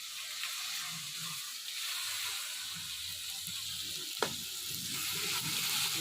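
Cashews and raisins frying together in a clay pot for village-style khichuri, a soft, steady sizzle with gentle stirring and one brief clink, quiet and close with no talking.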